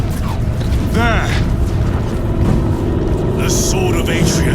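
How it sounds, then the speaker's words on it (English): Engines drone and rumble in Warhammer 40,000: Space Marine 2, a heavy continuous mechanical roar with a rising whine and booming swells, loud and close throughout. "I hear engines."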